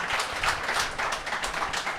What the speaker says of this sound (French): alors applaudissez-le